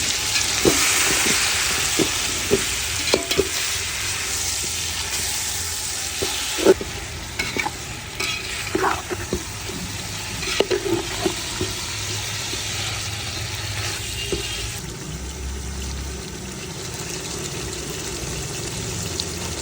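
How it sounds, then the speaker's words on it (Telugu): Marinated chicken for chicken biryani frying in a hot pan gives a loud, continuous sizzle and hiss, broken by repeated scraping and knocking of a spoon stirring the pieces, close up with no talking. "మ్యారినేట్ చేసిన చికెన్ వేసుకుందాం."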